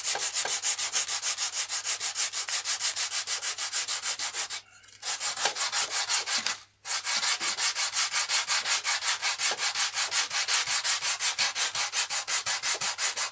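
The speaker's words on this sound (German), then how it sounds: "Schleifen wir das mal eben." Sandpaper rubbing wood during repair of a positive-construction model wing surface at the leading edge and spar, a rapid rhythmic back-and-forth scratching with two short pauses, close and alone.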